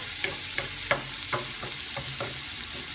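Wild chanterelle mushrooms sauté in a pan with garlic and onion, a close, steady sizzle broken by several sharp stirring clicks and scrapes, no voices.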